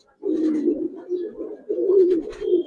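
A Giribaz pigeon, a female let loose, gives a run of close, low throaty coos in steady repeated phrases with barely a pause between them.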